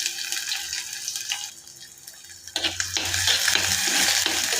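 Onion being added to hot oil with garlic and ginger, then stirred in a pan, with a steady sizzle that swells as the onion goes in and continues with scraping and stirring noises.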